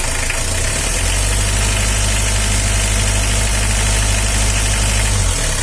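A smoky Mitsubishi L300 van's engine idles roughly and continuously, a loud, steady, rattling knock with a low vibrating drone and no talk over it.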